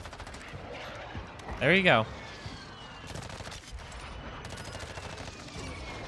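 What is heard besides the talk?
M13 gunfire in the video game Warzone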